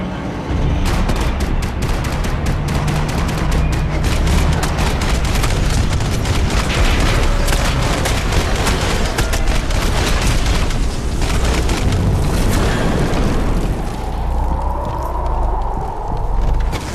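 Max Payne 3 video game combat: dense, loud bursts of gunfire and booming explosions pound continuously, with crackling debris, for the whole stretch, easing near the end.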